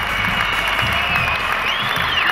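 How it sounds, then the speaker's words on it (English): An audience at Stoke-on-Trent's Britannia Stadium applauds steadily, a dense wash of clapping from a large crowd with a few faint cheers running underneath throughout. "Give them a big round of applause"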